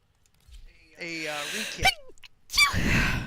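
A single sharp sneeze bursts out partway through, with voices talking and murmuring before and after it.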